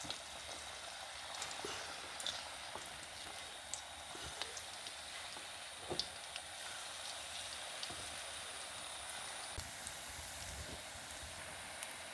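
Rice bonda batter frying in hot oil, a steady soft crackling sizzle with scattered small pops running evenly throughout, no voices.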